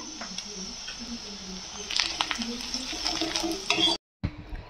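Onion, ginger, garlic, chili and turmeric fry in hot oil with a steady sizzle, broken by scraping stirs of a utensil in the pan, close and moderately loud, with a brief drop to silence near the end.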